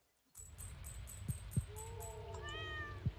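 A cat meows in a video game, a drawn-out, falling mew standing out over repeated chiming game effects and a few soft thumps, with no talk.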